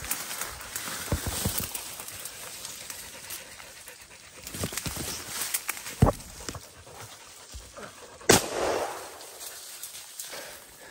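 Hunting dogs pant audibly after catching a black and white boar on a trapline, with rustling and scuffling around them and a couple of sharp thumps, all fairly close.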